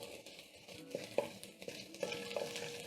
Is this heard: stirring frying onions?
yes